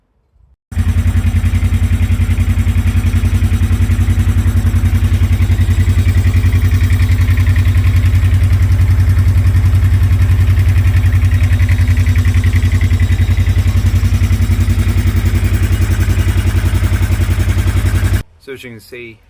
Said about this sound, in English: So as you can see, I've got it running while idling.